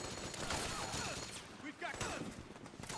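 Gunfire in a combat game after fire is ordered: bursts of rapid shots mixed with sharp cracks, fairly distant, over a shouted voice and busy background noise.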